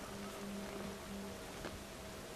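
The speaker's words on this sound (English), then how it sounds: "Lovely rain anyway, you know." Steady rain hiss in the video game Assassin's Creed Syndicate, a dense continuous wash falling without pause, with faint tonal ambience beneath and no talk.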